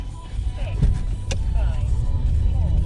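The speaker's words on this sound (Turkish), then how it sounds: "Şimdi arabaya atladım. Bir an önce hop, bayağı kötü bir yol." Car driving over a rough road, a steady low engine and road rumble with a few bumps and rattles, and a voice talking briefly.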